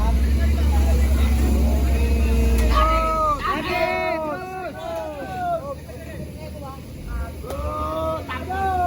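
Tank truck engine roaring during a roadside recovery, a loud low drone under excited shouting from several people, with the shouts rising and falling over the steady engine noise.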